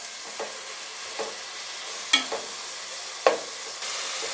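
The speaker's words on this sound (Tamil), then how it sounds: "பிரியாணிக்கு எப்பயுமே வெங்காயம் நல்லா வதங்கணும்" Onions sizzle steadily in an oiled pan for mutton biryani, with a few sharp scrapes and taps from a stirring spoon breaking through the constant frying hiss, close up and without talk.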